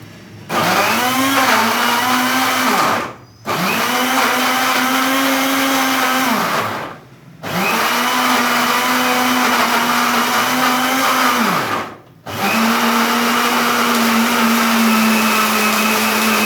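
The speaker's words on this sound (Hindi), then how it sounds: "इन तमाम चीज़ों को मैंने ग्राइंड कर लेना है।" A kitchen grinder blends a paste of garlic, ginger and a little water, running loud and steady in three long bursts with brief pauses between them.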